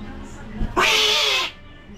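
A cat lets out one loud, close meow, a short bright cry lasting under a second, preceded by a faint soft thump and otherwise quiet.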